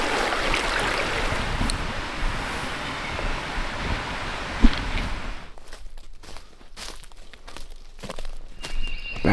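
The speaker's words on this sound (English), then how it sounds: "we got some creek noise helping us out" A backwoods creek on Alabama public land rushes with a steady broadband hiss that drops away midway, leaving quieter surroundings with scattered footsteps and rustling.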